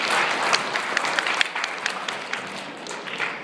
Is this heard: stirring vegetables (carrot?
no